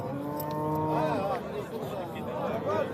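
A young cow at a Thursday livestock market in Yangiqurgon, Samarkand, gives one long, clear moo close by, then a shorter call, over the murmur of the market crowd.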